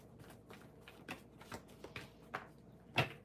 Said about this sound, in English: Sometimes it takes a minute to shuffle